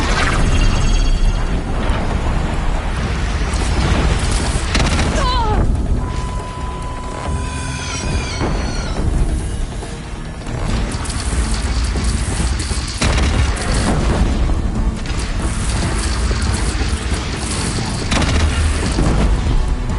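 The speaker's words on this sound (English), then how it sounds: "Deathbringer fire incoming!" A Deathbringer machine fires explosives in Horizon Zero Dawn, setting off loud, dense booms and blasts one after another. A short whistling tone passes through the middle, and the barrage fills the whole stretch with no spoken words.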